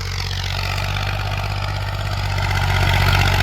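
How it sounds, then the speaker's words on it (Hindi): Massey Ferguson 35 tractor pulling a rotavator through soil, its engine a loud, close, continuous low drone under strain that grows slightly louder toward the end. "फिलहाल ट्रैक्टर में कमी क्या है, इंजन मांग रहा।"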